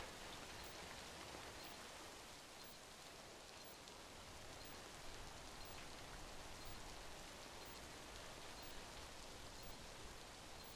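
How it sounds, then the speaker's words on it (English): Steady rain falls in the video game Death Stranding, a constant even hiss of drops across the whole stretch with no voices. "when will the rain stop?"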